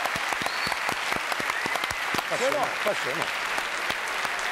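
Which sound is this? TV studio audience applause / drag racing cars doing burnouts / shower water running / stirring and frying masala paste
TV studio audience applause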